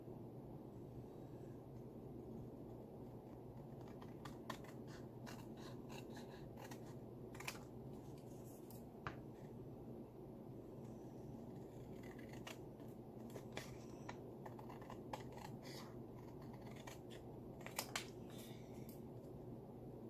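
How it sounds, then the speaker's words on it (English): Scissors snip and trim paper scraps during a glued-paper ephemera craft, giving soft, irregular clicks and cuts close up against a steady low background hum, with no talk. "And then I'm just going to use my scissors to trim this out."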